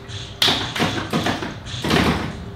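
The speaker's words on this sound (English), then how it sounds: "at least you guys could hear the solenoids going off" Several sharp mechanical clacks and thumps fire in quick irregular bursts over a steady electronic hum, like pinball solenoids kicking during play on a Simpsons Pinball Party machine.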